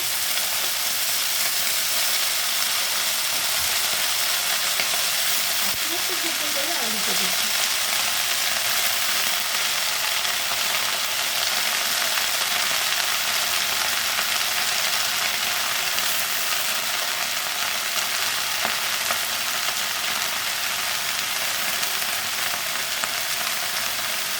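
Red amaranth leaves and small diced potatoes fry in a pan with a steady, continuous sizzle, fairly close and even throughout, with a brief stirring scrape partway through.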